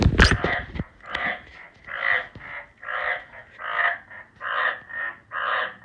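A sharp clatter at the start, then a steady run of short, regular croaking chirps from tree frogs, moderately loud and close, repeating about twice a second.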